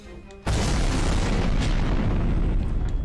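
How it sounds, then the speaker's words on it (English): An explosion effect from the visual novel game Code: Realize bursts in suddenly after a faint musical passage, then roars on as a loud, sustained rumbling blast with no voices. "another explosion rocks the sky pirates into the wall"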